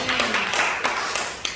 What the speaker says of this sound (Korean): 우리 격려와 박수를 드리겠습니다